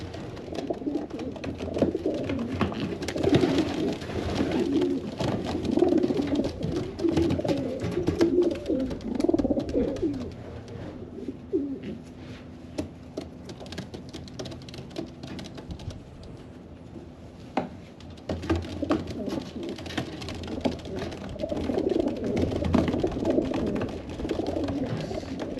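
Pigeons in a loft give soft, repeated low coos that overlap steadily throughout, mixed with light scratching and wing shuffling, and no one speaks.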